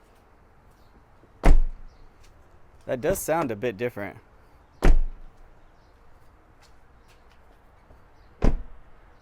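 Three heavy Toyota Tacoma TRD Pro truck doors, fitted with door stabilizers, shut with solid thunks, spaced a few seconds apart, and a person speaks briefly between the first two.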